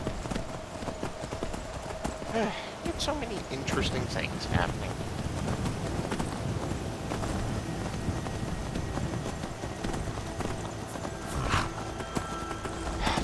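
A horse's hooves clip-clop at a steady rhythm as it is ridden along a road in Skyrim, with wind and rumbling thunder behind and someone talking over it.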